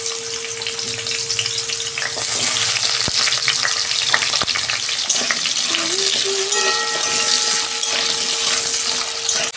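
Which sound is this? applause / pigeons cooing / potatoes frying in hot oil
potatoes frying in hot oil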